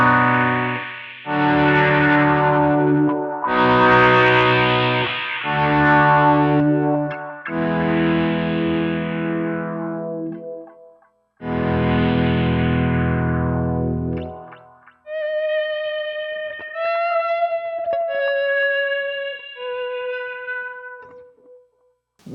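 Electric guitar volume swells through a Line 6 Helix LT: several chords fade in softly and bloom with a distorted, effected tone, each then decaying, followed by quieter ringing single notes with echo.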